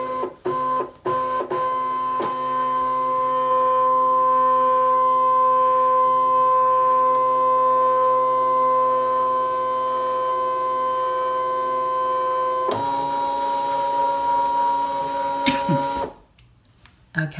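A Brother ScanNCut cutting machine scans with a steady electronic whine and mechanical hum that holds for about ten seconds, shifts in pitch, then stops, after a few short clicks at the start.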